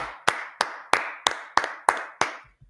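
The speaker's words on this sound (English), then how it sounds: "Let's clap it up for the Lord." A congregation at a Tuesday brotherhood class claps together in unison, eight sharp, evenly spaced claps at a steady beat, each ringing briefly in the room before the next.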